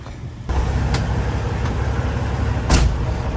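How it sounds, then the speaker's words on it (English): Custom Peterbilt 379 semi truck idling close by: a steady, loud low-frequency diesel rumble kicks in after a brief quiet start, with a couple of sharp clicks or knocks over the continuous drone. "And it even sounds like a real truck."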